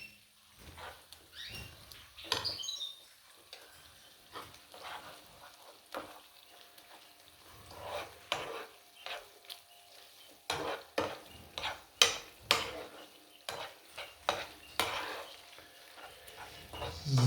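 Onions frying in a pan on a home stove, a faint, uneven crackle and sputter broken by scattered spoon scrapes and taps as they are stirred.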